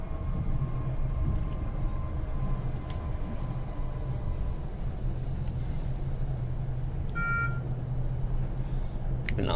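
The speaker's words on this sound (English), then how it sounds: "that's a warning to get down to 55" A short electronic speed warning alert chimes once near the end in a Train Sim World 6 cab on the Morristown Line in New Jersey, over the constant low rumble and hiss of the moving train.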